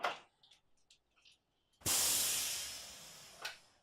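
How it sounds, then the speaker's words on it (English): An Instant Pot pressure cooker releases steam from its valve after cooking a whole chicken: one loud, sudden hiss bursts out and then slowly fades, following a few quiet clicks and small noises. "First, we have to release the steam."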